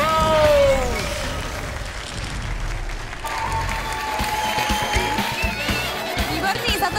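A studio audience at a New Year's Eve comedy show applauds, loud and dense at first and then settling into steady clapping with chatter and a host's voice over it.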